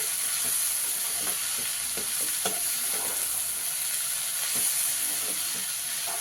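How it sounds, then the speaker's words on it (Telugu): Steady frying sizzle from tempering for bottle gourd dal in a pan, a continuous hiss with soft stirring scrapes and small pops, close and even throughout, with no talking. "రెండు నిమిషాలు అయిపోయిందండి బాగా వేగిపోయింది చూడండి"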